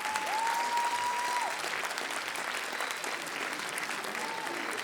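Loud, dense applause from a concert audience at a youth music show, continuous clapping with a brief whistle or cheer rising above it near the start.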